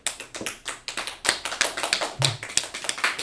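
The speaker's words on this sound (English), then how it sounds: "let's clap it up in class" A class of people clapping together, a steady loose pattern of distinct hand claps at close range for a few seconds, with no talking.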